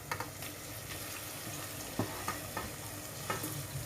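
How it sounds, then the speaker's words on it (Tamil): Tomato and mint being stirred into frying onions for mutton biryani, with a steady sizzle beneath a few scraping spoon strokes against the pan. "தக்காளி புதினா 2மே நம்ம போட்டுடலாம்."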